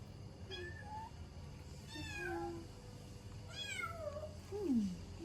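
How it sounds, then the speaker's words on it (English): A small kitten at a temple gives several faint, thin meows, four or five short rising and falling cries spread over a few seconds against steady outdoor background noise. "Oh, little kitten. Looks adorable."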